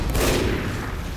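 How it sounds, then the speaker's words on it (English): Burst of gunfire inside the Team Fortress 2 video game, a dense, loud crackle of shots packed into about a second with no pause. "Why do I hear shooting then?"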